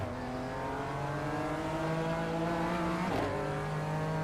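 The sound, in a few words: BMW race car engine accelerating in iRacing video game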